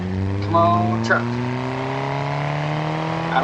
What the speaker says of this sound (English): I don't think doing a high rev clutch dump helped us out.